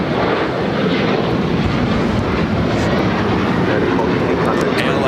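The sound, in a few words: airliner taking off from runway at LAX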